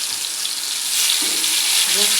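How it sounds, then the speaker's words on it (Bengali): Sliced spiny gourd (kakrol) frying in hot oil in a pan, giving a steady, bright hiss and sizzle that carries on without a break and swells a little partway through. "কারকল ভাজি করছি এখন"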